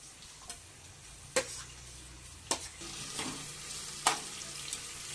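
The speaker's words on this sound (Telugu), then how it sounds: "సో ఇది కొంచెం బాగా ఫ్రై అవ్వాలన్నమాట" Onions and green chillies frying in hot oil make a steady, soft sizzle, broken by a few sharp spoon-against-pan clicks and stirring scrapes.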